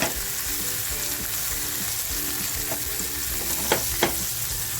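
Paneer cubes fry in a pan for smoky paneer masala, giving a loud, steady crackling sizzle throughout, with two brief clinks near the end.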